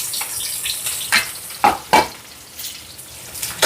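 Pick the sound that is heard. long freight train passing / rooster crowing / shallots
shallots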